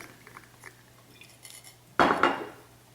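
Roasted potatoes and sweet onions tumble into a bowl with one sudden, close clatter of hard pieces against the dish, which rattles and settles over about half a second after quiet kitchen moments.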